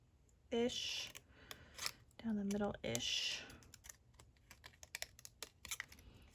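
Scissors cut scrap paper down the middle for a handmade dinosaur birthday card, with crisp snipping and rustling paper at close range and brief voice sounds mixed in.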